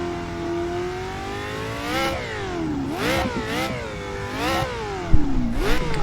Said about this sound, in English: this is the Ford GT40 Mark IV. This is maybe the most significant and iconic American race car ever produced, and let us listen to the engine on this one